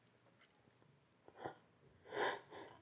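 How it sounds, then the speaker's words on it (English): A single close sneeze with a quick intake of breath before it, preceded by faint sniffs in an otherwise quiet room. "A sneeze here."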